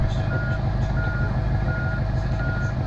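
A DAF XF truck in the Truckers of Europe 3 driving game backs up to steady, evenly spaced reversing beeps over a constant low engine drone, loud and close throughout.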